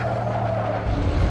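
A car in a VR racing game slides through a corner with a loud, sustained tire skid over a steady engine roar. The sound is close and continuous, with no talking.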